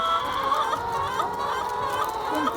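Laying hens cluck steadily at a chain of feeder pans, poking their heads through the openings to peck at feed, a dense close chorus of overlapping clucks with no talking.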